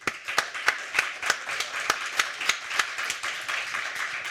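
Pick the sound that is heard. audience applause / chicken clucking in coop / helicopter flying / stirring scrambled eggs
audience applause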